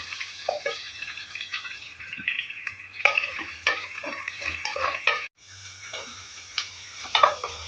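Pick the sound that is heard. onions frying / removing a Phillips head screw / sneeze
onions frying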